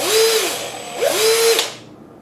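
A Black + Decker 20V Max drill driver runs in two short bursts, its whine rising as the motor spins up and falling as it brakes to a stop, close and loud with no talking.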